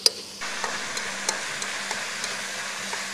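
Beef stir-fried in oil in a pan at an outdoor roadside cooking spot in Halls Creek, Australia: a continuous close sizzle with light, regular spatula scrapes and taps.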